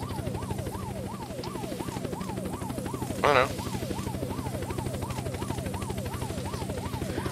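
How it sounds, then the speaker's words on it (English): A police helicopter in the video game Unturned flies nearby with a fast, steady rotor chop and a whining pitch that swoops up and down, while a voice briefly speaks over it. "And then the police chopper."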